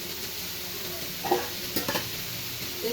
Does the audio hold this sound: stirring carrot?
yes